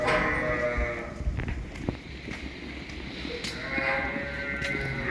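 Milk-producing ewes bleat on a farm, several wavering calls overlapping with a busy shuffling background of the flock nearby.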